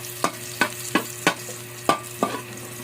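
Garlic frying until golden brown, with a steady sizzle broken by six regular scraping stirs of a spatula against the pan, close and clear, no talking.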